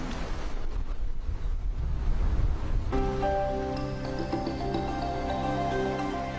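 Sea waves wash against the shore as a steady, broad rushing noise for about three seconds, then music rises over it and takes over.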